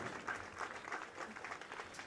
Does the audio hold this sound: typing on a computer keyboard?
no